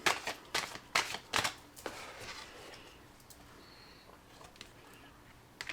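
Tarot cards being shuffled during a card reading, a run of crisp riffling bursts up close, then quieter sliding and tapping of the deck.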